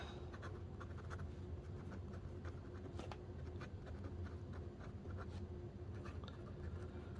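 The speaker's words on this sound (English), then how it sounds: "Love the scratch of a nib on paper." A Lamy Safari fountain pen nib scratches across paper in steady, close, quiet strokes, with short rhythmic scritches and little pauses as words are written.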